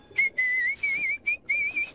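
Someone whistles a cheerful, wavering tune in short phrases separated by brief pauses, close and clear against a quiet background.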